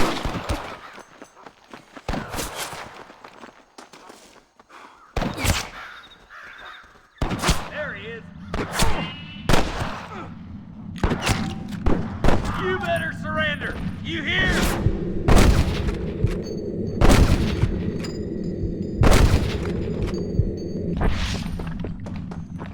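Sniper rifle shots ring out in a Red Dead Redemption gunfight, sharp cracks spaced irregularly across the scene, some near and loud, with shouted voices and a steady background hum between shots.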